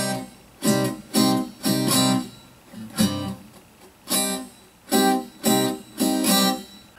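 Acoustic guitar strumming pattern for a song with every stroke muted, giving short percussive chord bursts in a steady rhythm, close and clear, with no voice over it.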